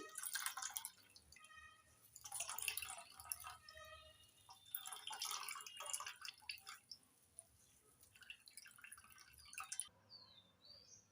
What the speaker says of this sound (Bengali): কাপড়ের উপর এবার জলটা ভালো করে নিংড়ে নিচ্ছি